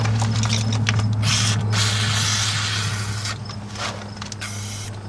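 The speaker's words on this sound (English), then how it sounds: "I'll spray some more lube in there." Short hissing bursts of aerosol lubricant sprayed onto a bolt on a first-generation Nissan Titan wheel hub, several in a row, over a steady mechanical hum nearby.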